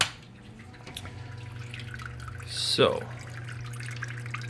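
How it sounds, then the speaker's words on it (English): Water trickling and dripping down a custom pumped waterfall inside a vivarium, a faint continuous patter with a low pump hum underneath, with a brief louder splashing swell midway and a voice starting to speak. "obviously you can hear the water. What I've done is I've built a custom waterfall."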